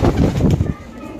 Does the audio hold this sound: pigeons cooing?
yes